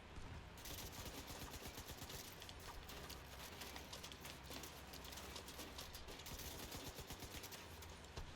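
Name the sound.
gunfire in the video game The Division 2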